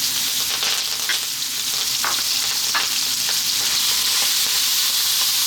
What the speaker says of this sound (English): we're going to drop in our onions. And our curry leaves, which can be noisy